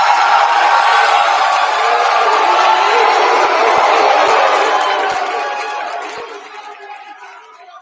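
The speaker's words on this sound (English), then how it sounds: "if you really want to get a lot of applause, all you have to do is say Navy." A crowd at a live event cheers, whoops and claps loudly, then the roar gradually fades over the last few seconds, with some chatter mixed in.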